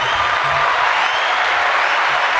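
Audience applause welcoming a guest on a podcast, a loud, even wash of clapping that fills the whole short moment without a break.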